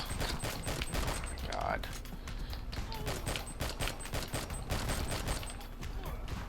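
Rapid minigun fire in the video game R.I.P.D. The Game rattles in dense bursts throughout, with a man briefly exclaiming over the shooting.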